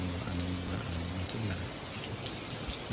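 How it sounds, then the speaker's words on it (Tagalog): Steady rain falls over Culaba, Biliran on an afternoon, a continuous broadband hiss with patter, while a low hum and faint bird calls sit underneath. "ulan yata yun"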